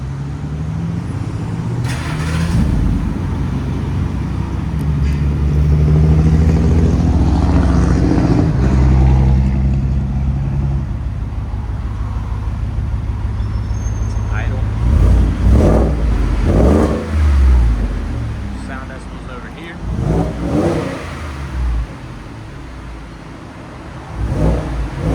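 A 2018 Ford F-150 with the 5.0L V8 and a Borla XR-1 exhaust with a new tip revs hard, deep and loud up close, with sustained rumbling pulls and sharp repeated blips near the end.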